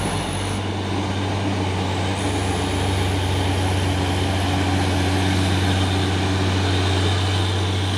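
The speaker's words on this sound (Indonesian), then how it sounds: "Masuk lagi satu unit truk tronton Hino ini ya." A Hino tronton truck rolls in with a deep, loud diesel drone that stays steady and close throughout, with no talking over it.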